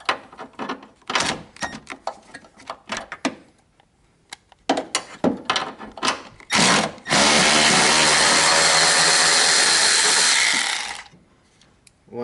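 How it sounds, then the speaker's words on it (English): A power tool loosens a 10 mm bolt at the headlight of a 1998-2002 Chevrolet Camaro: scattered clicks and clatter, then one loud, steady whir close by lasting about four seconds before it stops. "So we just get the 10 mil off."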